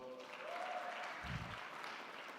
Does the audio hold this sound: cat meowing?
no